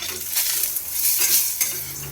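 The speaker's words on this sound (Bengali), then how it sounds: "কড়াইতে একটু তেল একটা শুকনো লঙ্কা একটুখানি গোটা জিরে আর বড়িটা দিয়ে দিলাম" Lentil dumplings (bori) sizzle steadily in hot oil in a kadai with a dried chilli and whole cumin, a close, even hiss with a light scrape of stirring and no talking.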